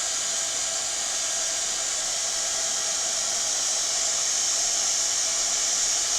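A hair dryer blows a constant, loud hiss close by to dry a small resin craft piece in a mould, running without a break and with no talk over it.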